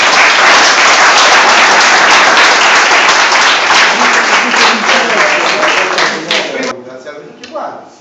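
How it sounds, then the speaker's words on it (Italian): A crowd at a public meeting on the IMU property tax gives loud, dense applause that fills most of the moment, then thins out and trails off into a few scattered claps near the end. "Lo ringrazierei con un applauso."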